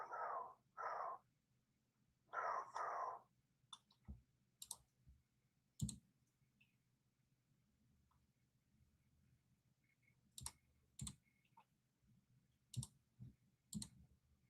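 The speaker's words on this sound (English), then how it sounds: "I'm just clicking off one link after another." Computer mouse clicking through saved links, sharp isolated clicks spread unevenly and heard close in a quiet room, with some short muffled noises at the start.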